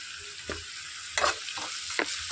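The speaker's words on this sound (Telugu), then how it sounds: "సన్నగా తరిగి పెట్టుకుని ఉల్లిపాయలు వేసి వేయించుకోవాలి" Finely chopped onions fry with turmeric in a hot oil tempering, giving a steady close sizzle broken by a few sharp stirring scrapes, with no talking.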